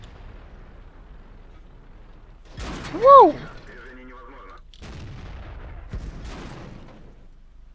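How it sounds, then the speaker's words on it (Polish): A T-62A tank cannon fires a single loud, booming shot in a video game, followed by a mechanical reload clatter and lower rumbling; an exclamation is heard around the blast. "I taki zwiat między kamyczkami. I lewo. I troszkę w prawo. Pyk, pyk, udajemy, że tutaj patrzymy. Jest. I strzał z biodra blisko,"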